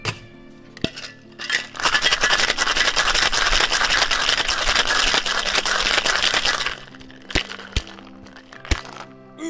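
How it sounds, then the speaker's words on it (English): Ice rattles hard inside a cocktail shaker as a gin tiki cocktail with lemon and fresh pineapple juice is shaken: a loud, dense, continuous clatter runs for about five seconds, with a few isolated knocks before and after. "Ice in the shaker and give it a good shake."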